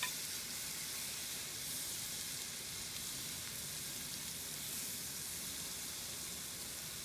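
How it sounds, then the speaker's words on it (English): Quarter onion, four garlic cloves and a chunked small tomato sizzle steadily in a pan at a backcountry cooking setup, a dense, even frying hiss with no pauses and no talk. "I have 1/4 of an onion in the pan now. I put in 4 cloves of garlic"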